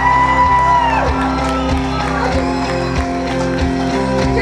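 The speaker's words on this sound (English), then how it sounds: "Cheer loud, everybody!" A crowd cheers and shouts at a torch relay, a sustained roar of voices and whoops with some clapping, swelling loudly at first and continuing steadily throughout.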